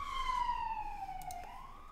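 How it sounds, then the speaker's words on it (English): An ambulance siren heard outside, its wailing tone sliding steadily downward as the vehicle passes, fairly loud over a low background rumble; no talking. "ambulance just went by outside"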